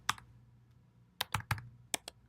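Computer clicks while filling out an online ordering portal: a sparse handful of sharp, close taps, one at the start, then a quick cluster of four or five, fairly quiet with no talk.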